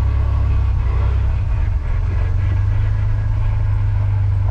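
A 1993 Ford F-150 pickup gives a steady, loud engine drone with a deep low rumble, running continuously while idling or cruising, with no voices.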